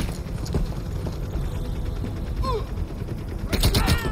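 Gunfire from the Call of Duty: Cold War video game comes as scattered sharp shots and rapid bursts over busy in-game ambience, with a dense volley near the end.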